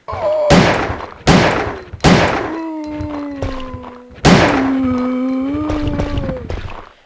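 A handgun fires several heavy shots at a zombie in Resident Evil 3: Nemesis, four loud booming reports with ringing tails, the final one followed by a longer metallic resonance, with no talk.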